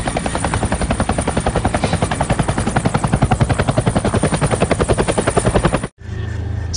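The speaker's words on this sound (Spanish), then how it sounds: "Llegó el helicóptero." A helicopter arriving, its rotor chopping in a loud, fast, steady thump close by for about six seconds before cutting off abruptly to a quieter background.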